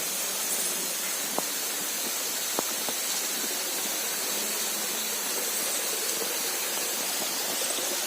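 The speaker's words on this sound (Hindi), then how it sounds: "ये आप पीछे ये ऊपर झरना ये रहा, नजर आ गया होगा।" Rameshwar Mahadev waterfall in Bundi, Rajasthan, a steady broadband rush of falling water heard at a distance, continuous and even throughout with a few faint clicks, and no voices.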